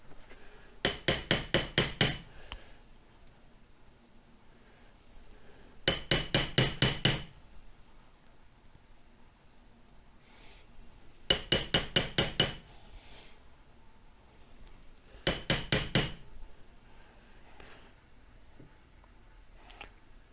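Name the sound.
tapping a seal into a Ford 9 inch rear end with a hammer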